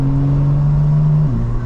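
A BMW M4 fitted with MAD Fat Boy catless downpipes and a single non-resonated midpipe drones loud and close at a steady engine note, the pitch shifting near the end as the revs change.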